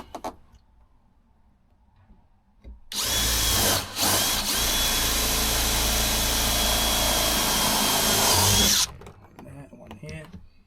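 A cordless power drill drives screws into a van floor in one long, steady, loud whir lasting about six seconds. It breaks off briefly near the start, then stops abruptly, with quiet talk and handling noise around it.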